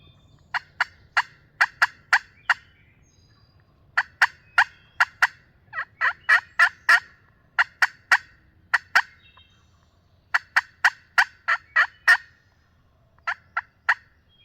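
A wild turkey gobbles over and over during an early-season hunt in Virginia, answering calls in sharp, rapid bursts that come in clusters with short gaps between them, loud and clear against a quiet background.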